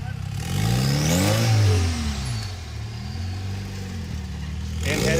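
Off-road rock crawler engine revving to slide its belly across a breakover, a loud close throaty rise and fall in pitch that settles to a steady drone, then swells again, with a commentator talking.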